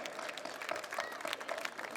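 An audience at a Shivaji Jayanti gathering in Lucknow gives a guest a round of welcoming applause. The dense, continuous clapping sounds fairly distant and quiet, with no voices over it.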